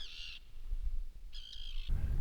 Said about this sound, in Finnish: Mitä tässä 6-7 tiiraa rupes pörrää ympärillä